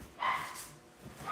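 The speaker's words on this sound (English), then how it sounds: "If you hear barking, that's my dog." A pet dog gives a couple of faint, distant barks somewhere in the house, quiet and brief with no talking over them.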